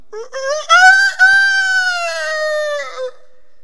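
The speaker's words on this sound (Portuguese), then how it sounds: "galos coreanos são assim" A Korean rooster crows close and loud, a single long drawn-out call that rises after a short stuttering start, holds its strained tone, then tails off.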